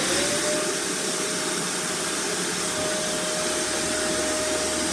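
A Kenmore Inteli Clean upright vacuum cleaner runs on its gentle sweep setting, a steady loud roaring whoosh with a constant motor whine throughout, close by and without any voices.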